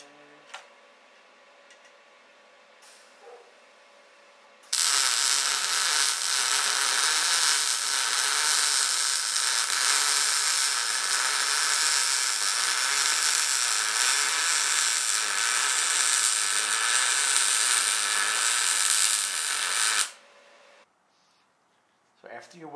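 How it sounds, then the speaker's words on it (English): Welding parts of a Wisefab angle kit for a BMW E36/E46, a steady loud crackling hiss lasting about fifteen seconds before stopping abruptly, with quiet handling noises on either side. "Okay, now I'm gonna weld."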